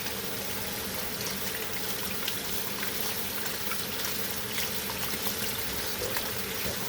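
Tap water runs steadily while a brush is rinsed out, a continuous close hiss and splash with no pauses.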